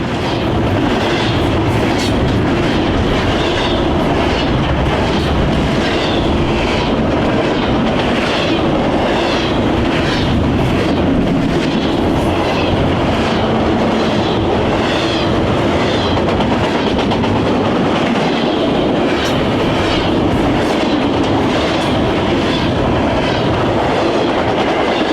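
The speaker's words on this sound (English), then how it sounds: "Our first train of the day, led by Foreign Power, was 22K." A Norfolk Southern freight train, 22K, led by foreign-road locomotives, rolls past close by, with steady rumbling and rhythmic clickety-clack of wheels over rail joints lasting the whole time. No one speaks.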